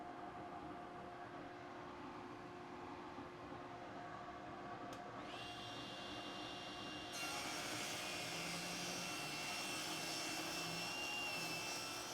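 Power saw cutting wood with a tapering jig while making table legs, a steady loud machine whine that rises and brightens midway as the blade bites into the workpiece, continuous for several seconds with no talking.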